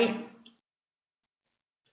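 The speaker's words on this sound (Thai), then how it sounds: "ให้คลิกเมาส์ค้างไว้ในรูป" A computer mouse clicks three times, each a tiny, sharp click spaced well apart in near silence, just after a voice trails off.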